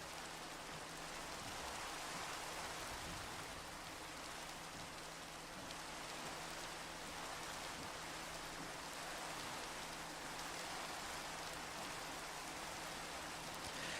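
Steady rain pours down in the video game Minecraft, a continuous even hiss of falling drops that holds unbroken from start to finish with no voices over it.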